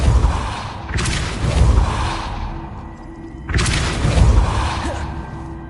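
Depulso force spell cast in the video game Hogwarts Legacy, two strong whooshing blasts a few seconds apart, each a bright burst with a deep thump that fades out, under a low game ambience.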